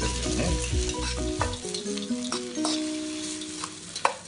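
Carbonara pasta sizzles in a pan as egg yolk is poured in and stirred, giving a steady fry with soft scraping and clinks, close and moderately quiet, while low melodic tones run underneath early on.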